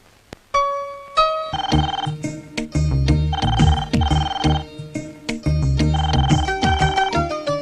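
A telephone rings in a Telugu comedy scene with a loud, repeating electronic ringtone. Its tonal bursts recur in a regular pattern over a thumping musical backing.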